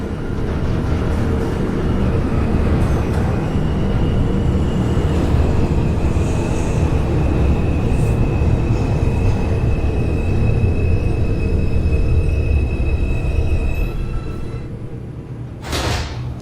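NYC Subway R142 train on the 5 line via 7th Avenue in the OpenBVE simulator game, running with a steady loud rumble and a sustained motor whine, then a sharp hiss near the end.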